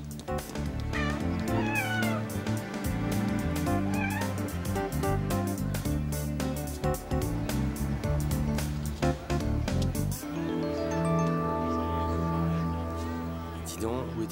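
A cat meows several times over busy background music, the calls clear and fairly close.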